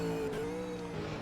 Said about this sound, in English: that makes me cry every time I hear that engine on the downshifts